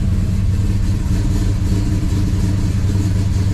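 A 1967 Dodge Dart's engine runs loudly in a garage, a steady, close mechanical drone with slight revving swells and no voices.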